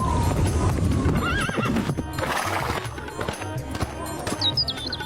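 A cartoon mare gallops with steady clip-clop hoofbeats and lets out several high, wavering neighs, loud and close, with birds chirping faintly in the background.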